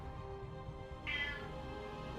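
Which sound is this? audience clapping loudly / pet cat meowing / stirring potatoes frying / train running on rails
pet cat meowing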